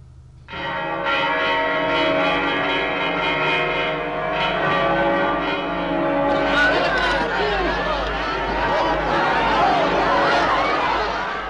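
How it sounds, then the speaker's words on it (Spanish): Church bells ring out loudly in sustained overlapping peals at the end of the Spanish Civil War, joined partway through by a cheering, chattering crowd. "volvieron a repicar las campanas."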